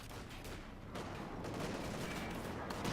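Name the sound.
machine gun fire in a video game battle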